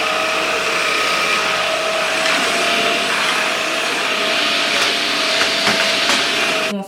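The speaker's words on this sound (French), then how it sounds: "ce qu'il faut savoir aussi sur cet aspirateur, c'est qu'il est hyper puissant au niveau de l'aspiration" Proscenic P11 cordless vacuum cleaner running steadily and loudly up close, a continuous whining motor hum with a few faint clicks and no talking.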